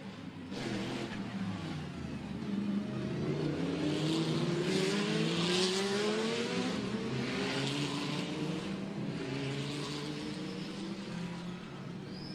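GT race cars at the Macau Grand Prix lap behind a BMW safety car, their engines rising and falling in a continuous moderate drone as several cars pass one after another on the street circuit.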